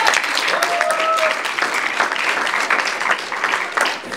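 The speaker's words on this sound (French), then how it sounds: "on peut quand même les applaudir." Applause from an audience at a conference fills the room, a loud, dense patter of clapping that continues steadily with a voice briefly audible over it.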